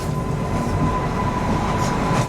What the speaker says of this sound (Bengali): এই ট্রেনটা এখান থেকে ছাড়লো 7টা 5-এ